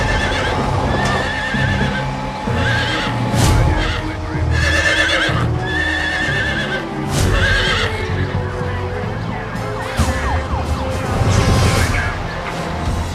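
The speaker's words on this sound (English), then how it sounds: "With the horse getting more and more distressed, Josh knows that time is running out." A large, distressed horse thrashing in a lifting harness neighs and whinnies loudly several times amid heavy thumping, scraping and commotion, with a siren-like wail in the mix.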